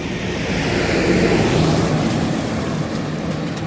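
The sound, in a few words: tractor passing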